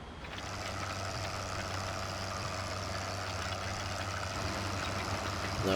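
Tractor engine in Farming Simulator 2015, a steady low diesel drone running continuously with a faint whine above, slightly rising in loudness near the end, without voices.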